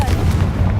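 The Confringo explosion spell in Hogwarts Legacy gives a loud, sustained low rumbling boom with a crackling burst, lasting under a second.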